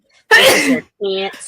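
A single sharp sneeze bursts out, loud and close, followed right away by someone talking.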